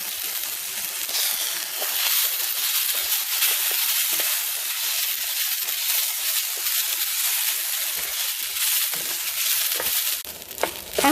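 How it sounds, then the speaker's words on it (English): Tomato sauce with onion, garlic and tomato fries in a pan, a steady dense sizzle running the whole time with occasional light stirring scrapes near the end. "I'm just gonna mix all the tomato sauce and make sure it fries"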